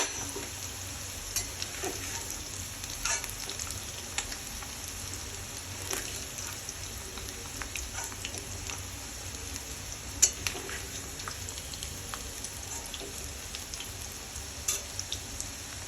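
Bitter gourd pieces frying in hot oil in a pan, a continuous soft sizzle with light pops and stirring clicks, close but fairly quiet with no voices.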